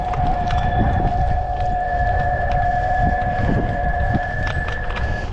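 An electric car's artificial warning sound, a steady high electronic tone, hums continuously over a rumbling outdoor background with scattered knocks, no voices.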